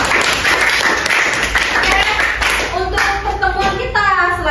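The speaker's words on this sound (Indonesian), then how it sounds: "beri tepuk tangan untuk kita semua" Close, loud group clapping during a lecture session, brisk and steady, with voices talking over it toward the end.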